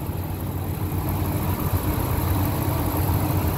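A 1999 Ford F150 with the 5.4 engine idling close by, a loud, steady low rumble with an even, healthy-sounding running note throughout.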